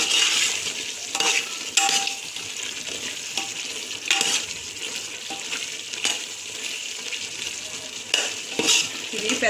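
Prawns being stirred with chili powder and salt in a pan for prawn biryani, with a steady sizzle, repeated scraping and clinking of the spoon against the pan, and no speech.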